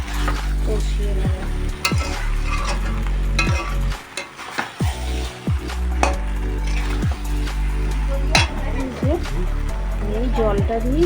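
Meat and potatoes are stirred and sautéed in a pan with no added oil, giving a steady sizzle with repeated scraping strokes of the spoon, loud and close. A faint voice comes and goes underneath.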